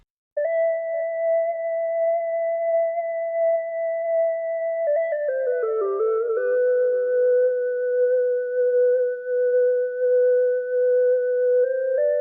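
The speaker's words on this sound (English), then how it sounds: "And then finally, I added this lead. The synth lead." A dry carbon-based synth lead from Dreamsynth, without effects, holds long sustained tones that bend downward midway and then settle into a steady lower note, clean and alone.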